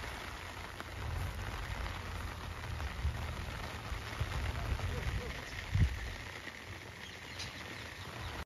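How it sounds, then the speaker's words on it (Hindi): Heavy rain pattering steadily on surfaces outdoors among farm fields in India, a continuous dense hiss with occasional louder drops and low rumbles. "बारिश तेज हो रही है गाइस।"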